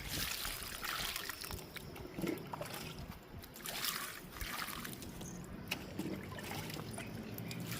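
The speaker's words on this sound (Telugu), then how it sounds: "ఇంక వాటర్ ఇస్తున్నాను." Water poured into buckets holding okra plants in a home garden, a soft, fairly faint trickle and slosh that comes and goes in short pours.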